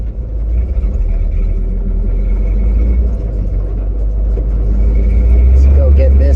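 A 1970 Ford 600 hay truck drives along, its deep low rumble steady and close as if heard from the cab, with slight swells in power.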